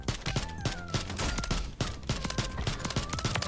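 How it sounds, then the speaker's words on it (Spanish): Rapid gunfire in a Warzone match, with dense volleys of sharp shots cracking in quick succession and a constant busy din of battle sounds all the way through. "¿De dónde le están disparando?"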